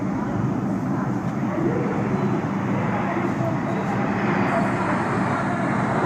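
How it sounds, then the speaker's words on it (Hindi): A steady, broad roar from Indian Air Force aircraft passing over a Republic Day parade in 2023 in low visibility: an airborne early warning and control plane and four Rafale jets in arrow formation, with a commentator's voice heard over it. "airborne early warning and control विमान AEWNC 4 रफाल एरो फॉर्मेशन में 415 किलोमीटर की रफ्तार के साथ"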